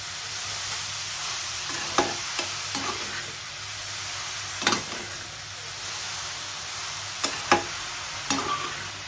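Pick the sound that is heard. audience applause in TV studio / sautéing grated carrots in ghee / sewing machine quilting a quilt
sautéing grated carrots in ghee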